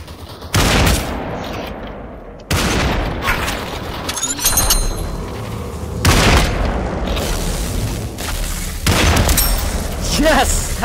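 Gunfire in the VR battle-royale game Population One, sharp loud bursts and single shots arriving in clusters with metallic clicks between, fairly close and punchy, with a player's voice in the background.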